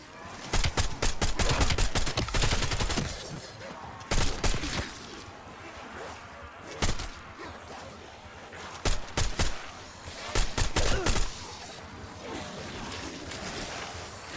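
Gunfire from Call of Duty: Black Ops zombies mode, with loud bursts of shots in irregular clusters and brief pauses in between, over a steady bed of game sound.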